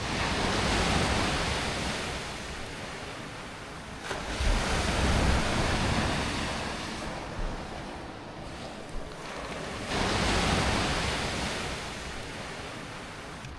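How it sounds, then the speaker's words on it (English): Sea waves break and wash onto a cold shore in long surging swells, loud and close, with the roar rising and easing in several slow cycles and no voices. "sit in the cold listening to the sea"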